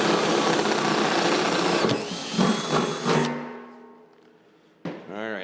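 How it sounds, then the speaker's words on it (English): A steady, loud mechanical whirring of a power drill boring through metal to enlarge a hole for a cast iron barrel stove door, running continuously, then cutting out abruptly, followed by a short clatter and quieter handling noise. "drill that out again"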